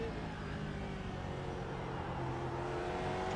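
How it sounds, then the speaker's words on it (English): A Ford GT2 race car with a big American V8 drones steadily in the iRacing sim at Sebring, a dense, even engine rumble held at constant revs throughout. "This engine's going to have plenty of torque. A big American V8."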